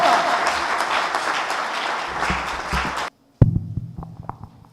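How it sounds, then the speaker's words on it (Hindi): An audience gives loud, sustained applause welcoming Professor Khurram Aftab to a Christian gathering. The clapping then cuts off abruptly and is followed by scattered thumps and brief voices. "जोरदार तालियां, जोरदार"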